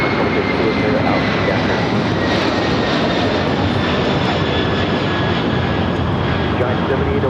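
Jet airliners and cargo planes taking off from runway 25 left at LAX, a loud, steady broadband engine roar with a rising whine that fills the whole stretch without a break.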